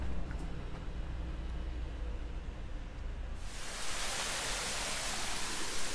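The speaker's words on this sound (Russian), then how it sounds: "Какая-то речка." Broad, steady rushing of a small river flowing, a continuous watery hiss that grows louder and brighter partway through as the stream comes closer, with no voices.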